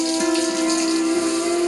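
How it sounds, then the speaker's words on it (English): Warm tap water runs steadily while very long fingernails are rinsed and scrubbed, a close, continuous gushing with a faint tonal hum beneath it. "First, they are rinsed and scrubbed with warm water."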